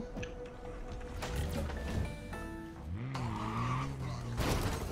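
A car driven in the video game Cyberpunk 2077, engine tones rising and falling with skidding tire squeals and shifting mechanical noise, at moderate level.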